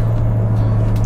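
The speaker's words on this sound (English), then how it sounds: "Third gear, stepping on the gas, fourth gear, third gear" A Maxus D60 Elite car engine heard from inside the cabin: a steady, low droning hum with road rumble, even in loudness throughout the short stretch.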